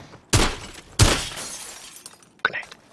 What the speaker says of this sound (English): We'll break the glass.